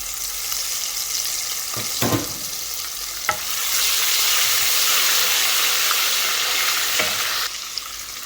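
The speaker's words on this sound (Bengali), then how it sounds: "যে অবশিষ্ট তেল রয়েছে তেলের মাঝে আমি বাগা দিলাম দিয়ে দিলাম রসুন পেস্ট" Garlic paste hits leftover oil from frying hilsa fish, giving a loud, close sizzle with a few sharp stirring knocks; the hiss swells and holds strong midway through.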